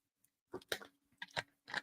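Crunchy bones being chewed, three short crisp bursts of crunching at close range in an otherwise quiet space, with no talking.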